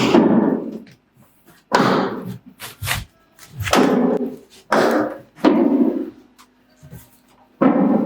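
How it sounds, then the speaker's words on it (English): A door is handled and set onto a wooden block in its frame during a siding install, giving a series of separate heavy thumps and knocks at close range, spaced irregularly with short quiet gaps. "Set the door on that block."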